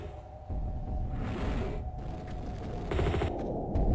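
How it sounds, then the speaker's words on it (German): Gunfire from Lara in the remastered Tomb Raider games crackles in rapid bursts over a rumbling, droning game backdrop, with a louder volley near the end. "Ich wusste gar nicht, dass man den nur am Hals angreifen kann, aber anscheinend muss Lara auf diese bestimmte Stelle schießen"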